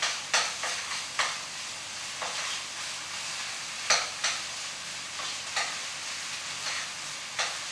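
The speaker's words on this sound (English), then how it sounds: "Stir that through." Vegetables stirred with curry paste in a pan, a soft steady sizzle under repeated scraping strokes of a utensil at an uneven rhythm, close and fairly quiet, with no talking.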